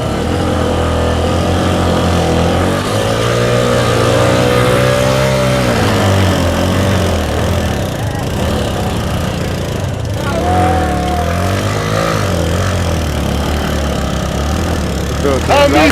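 Motorcycles starting off together at a roadside event, engines idling and then revving with rising and falling pitch, loud and close, while voices talk over the engine noise throughout.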